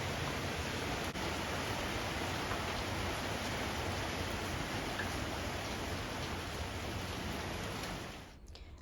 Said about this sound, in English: It started raining so hard right now.